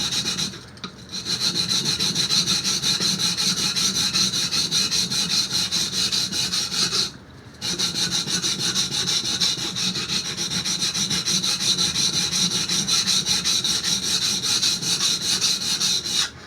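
A steel blade is rubbed in long, steady strokes on a waterstone, giving a continuous rasping scrape that runs nearly unbroken, with two brief pauses, loud and close without talk.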